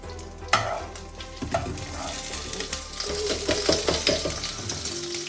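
A ladle stirs carrot fry with curry leaves in a frying pan, scraping and clattering steadily against the metal over continuous oil sizzle, close and fairly loud, with no voices.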